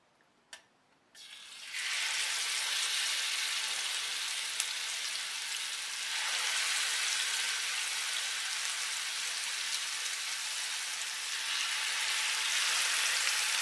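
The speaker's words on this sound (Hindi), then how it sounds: "जब हम फिश को गरम तेल में इस तरीके से तलने के लिए डालते हैं तो तेल उछल के ऊपर की ओर आता है" Spice-coated fish pieces drop into smoking hot oil and erupt into a loud, steady sizzling hiss that spatters on continuously after a brief click, close up with no talk.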